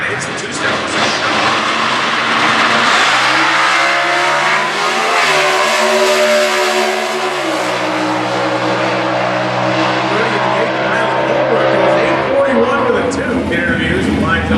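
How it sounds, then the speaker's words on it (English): A stock class drag racing car launches at the starting line and hits the two-step, its engine loudly revving and climbing in pitch over a continuous roar, with a commentator talking throughout. "He's trying to get through the starting line, kind of hits the two-step."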